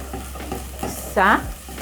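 Garlic and ginger pastes fry in a pot with a soft, close sizzle, punctuated by a few scraping stirs and one brief, louder clatter.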